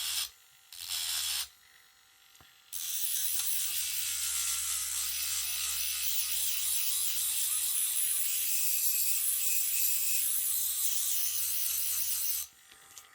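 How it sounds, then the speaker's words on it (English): A Dremel rotary tool grinds along an old Ka-Bar knife blade to thin it, giving a steady high-pitched whine with abrasive hiss that runs loud and close for about ten seconds after two brief starts. "You see the way I just went up there with a Dremel? It's thinning it down."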